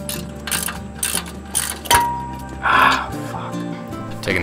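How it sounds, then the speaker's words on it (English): A ratchet breaks loose brake caliper bolts on a 1987 Toyota 4Runner, making close, quick clicking runs in short bursts, with a sharp metallic knock midway. "Breaking all the bolts loose."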